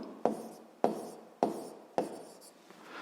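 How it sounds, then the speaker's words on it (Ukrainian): A pen drawing lines on paper, four separate strokes at a regular rhythm, each starting with a sharp scratchy onset and trailing off, close and fairly quiet with nothing else heard. "Проводимо дві лінії"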